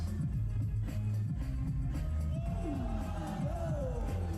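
A crowd at a WDSF breakdance event cheers and whoops, a distant, steady roar that runs under music and voices.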